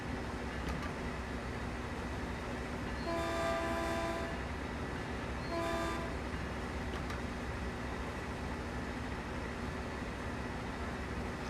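Caltrain MP36 locomotive rumbling along the San Francisco to San Jose route in Train Sim World, a steady engine and rail drone with two short horn-like tonal blasts partway through, no talking.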